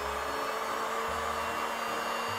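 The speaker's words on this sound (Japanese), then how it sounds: "このヒートガンで取っていきます" A heat gun blows on the plastic socket of a golf club head during a home shaft swap, making a steady, unbroken whooshing roar that stays close and even from start to finish.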